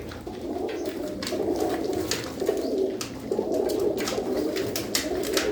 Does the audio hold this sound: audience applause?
no